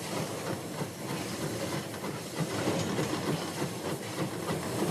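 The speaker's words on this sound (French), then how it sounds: "Allez, on va remettre un petit coup la pompe à air." The air pump of the Le Conifer La Tigerli steam locomotive runs in a steady, rhythmic, breathy pumping hiss, fairly loud and continuous, with no voices.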